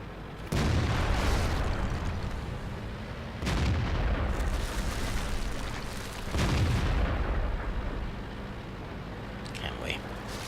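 Three heavy tank cannon shots from a T26E4 SuperPershing in World of Tanks boom out a few seconds apart, each a loud close blast trailing off into a rumbling decay.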